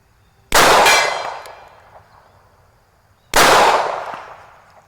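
Two loud, sharp shots from a Taurus Spectrum .380 pocket pistol, about three seconds apart, each a sudden crack followed by a ringing decay that fades over a second or more.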